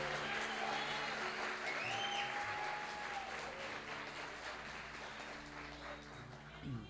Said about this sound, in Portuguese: Dá um salve de palmas para Jesus